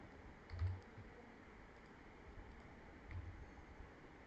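Typing on a computer keyboard to enter trading data, soft faint key clicks in a few short bursts against a steady background hiss, with no voices.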